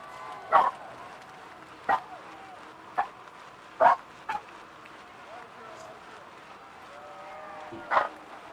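Dogs bark intermittently along a road during a time-trial cycling race, single sharp barks spaced a second or so apart, moderately close over a low steady background.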